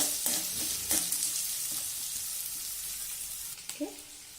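Chopped onions frying in a pan for Karnataka-style mango rice (chittranna): a steady, close hiss of sizzling oil with occasional stirring clinks and scrapes, and no voices.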